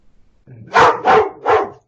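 A pet dog barks three times in quick succession, loud and close, the sharp barks evenly spaced with a faint rustle just before them.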